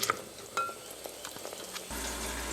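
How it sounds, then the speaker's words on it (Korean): Abalone porridge simmers in a small pot, giving a soft, steady bubbling hiss with a few faint clinks, and a louder low hum joins near the end. "이렇게 해서 약간 끓도록 놔두겠어요."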